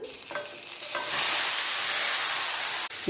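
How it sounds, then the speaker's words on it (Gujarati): Grated carrots for gajar halwa sizzle in hot ghee, a loud, steady frying hiss that swells after a moment of stirring and continues close to the pan, with no talk. "ગાજરને ઘીની અંદર સરસ સાતળવા દેવાના છે"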